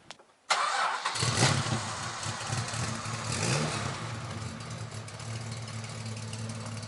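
A Chrysler Valiant with a twin exhaust cranks and fires after a brief pause, then settles into a steady, loud, rumbling idle with slight revving swells, close by.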